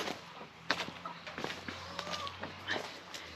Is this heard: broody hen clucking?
yes